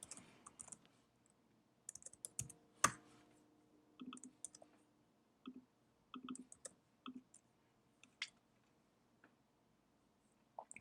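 Code typed on a computer keyboard for a Swift generics tutorial, with scattered bursts of soft, close key clicks and a few sharper taps, all faint and without any talk.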